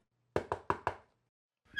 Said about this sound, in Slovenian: ko so potrkali